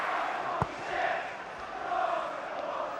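Football crowd in a stadium at an Everton versus Stoke City match, a broad, distant swell of fans that rises and falls steadily, with one brief thump near the start.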